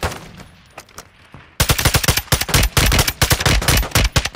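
Call of Duty gunfire: sparse distant shots at first, then a loud sustained burst of rapid automatic fire with dense overlapping cracks and booms continuing to the end.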